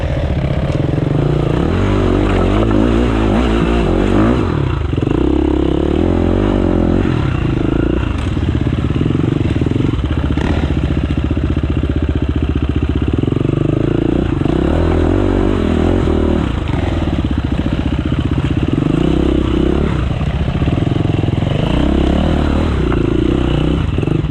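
A Yamaha 450 motocross bike on a Beskidy mountain trail, engine revving hard and rough with repeated throttle bursts, clatter and scraping over the terrain, close and loud throughout.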